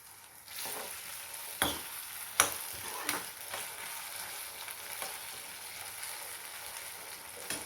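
Potatoes and green chillies frying in oil, with salt added, for sabudana khichdi make a continuous hiss and sizzle close by, punctuated by a few sharp spatula taps and scrapes against the pan.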